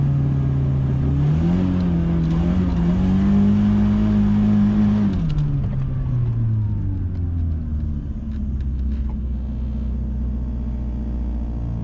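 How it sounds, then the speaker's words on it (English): Ford Turbo Coupe doing a burnout: loud, sustained engine roar with rising and held revs, tyre rumble and a drop in pitch as the revs fall, close and continuous with no talk. "it's doing a good burnout"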